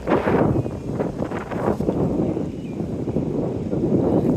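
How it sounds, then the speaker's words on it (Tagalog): Steady wind buffets the microphone with low rumbling gusts, rising and easing continuously, with faint water movement underneath, in Whistler, British Columbia. "mahangin pa ito"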